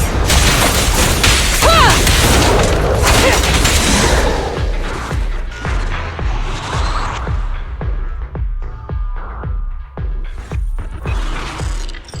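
Gunfire in the video game Zenless Zone Zero, a loud dense burst of shooting and blasts up front that breaks into a rapid series of separate sharp shots, rhythmic and punchy, with no voices heard.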